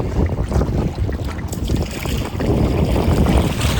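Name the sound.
wind on a lake while paddling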